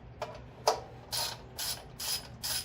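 Ratchet wrench loosening bolts on a Porter Cable 8000 watt generator, with a sharp metallic click followed by four short bursts of rapid ratcheting, close and fairly loud, no talking.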